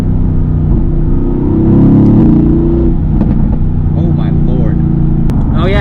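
A Mercedes-AMG GT S heard from the cabin, its engine roaring and revving loudly, then dropping through a downshift with pops and burbles as the note settles lower.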